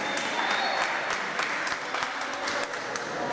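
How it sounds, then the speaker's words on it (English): Audience at a Brooklyn community celebration before the Puerto Rican Day Parade clapping, with a dense, even patter of many hands that holds steady throughout, faintly roomy with a little background voice. "Come on, you could clap"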